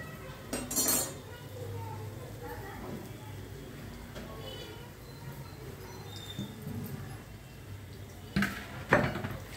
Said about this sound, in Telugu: కొంచెము గట్టిగా అయినాక గంటితో తిప్పుకోవాలి